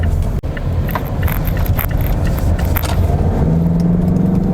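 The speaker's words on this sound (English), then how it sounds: "you could really hear the diesel engine, but it doesn't sound like a diesel engine" A Mazda 6 diesel sedan engine drones steadily and loudly from inside the cabin during acceleration, with a brief clunk near the start and the pitch rising slightly toward the end.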